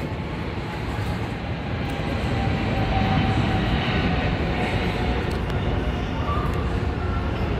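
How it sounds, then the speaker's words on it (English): A steady, broad engine roar of an airplane passing overhead, swelling slightly in the middle and holding loud throughout. "You see the airplane?"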